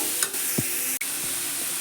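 Tomatoes sizzle in a pan while a utensil stirs them in a few short scraping strokes, with one sharp tap partway through; steady frying hiss underneath, close and fairly quiet, no talking.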